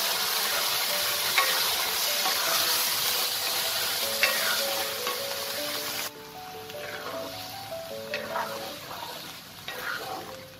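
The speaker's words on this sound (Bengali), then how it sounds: "এবার চালটাকে দু তিন মিনিট আমি একটু নাড়াচাড়া করব তেলে একটু ভাজবো" Soaked Gobindobhog rice stirred and fried in oil in a pan, a dense continuous sizzle with repeated scraping strokes of a spoon, loud and close throughout.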